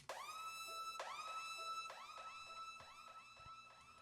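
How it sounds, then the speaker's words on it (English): A siren sound effect laid over a jazz-style pluggnb beat, rising in repeated wailing sweeps about once a second, fairly faint and alone without voices. "then we're gonna add a siren sound"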